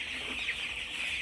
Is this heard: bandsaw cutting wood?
no